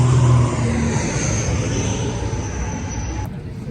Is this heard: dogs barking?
no